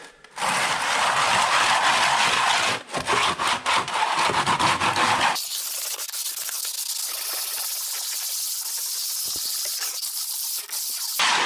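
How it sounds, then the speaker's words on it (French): A plastering float rubs steadily over the screed of a shower base, giving a loud, continuous rasping scrape with brief pauses, then a softer, smoother scraping sound. "je vais simplement passer un petit coup de taloche pour éliminer ces petits, voilà, ces petits grabons là"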